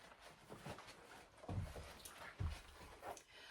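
Dogs moving about indoors, giving soft pants, snuffles and a few thumps at close range, with a couple of louder bumps partway through and no clear speech.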